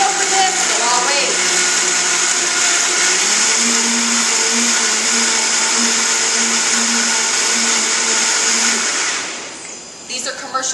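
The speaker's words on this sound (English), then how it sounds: "These are commercial blenders, the same blenders that are used at Jamba Juice." Two commercial heavy-duty blenders of the kind used at Jamba Juice run together at a loud, steady roar for about nine seconds, then wind down and stop near the end.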